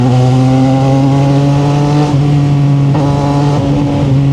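A 2025 CFMOTO 675NK motorcycle accelerates hard and close, its engine note climbing in a loud, rising whine through quick gear changes.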